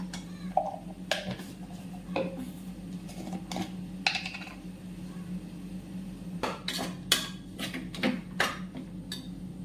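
A spatula clinks and scrapes against a pan in irregular taps while ground spices, including turmeric and salt, are stir-fried for beef macaroni, close and moderately quiet with no talk.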